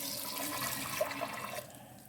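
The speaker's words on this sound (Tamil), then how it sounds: "தண்ணி சேர்த்துக்கணும்." Water poured into a pressure cooker holding salted rajma: a steady, faint rush of running liquid for about two seconds, tapering off at the end, with no voices.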